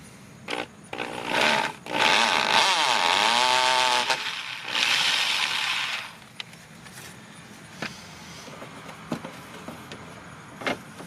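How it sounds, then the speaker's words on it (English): A power drill whines loudly for several seconds, its pitch sweeping down and back up as it bites into material while drilling a hole for a Ford Expedition rear mud flap, then stops, leaving faint clicks and handling noises. "So now we'll go ahead and drill that hole."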